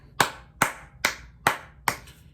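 Five sharp, single hand claps spaced evenly about half a second apart, close and loud against a quiet background, with no voices.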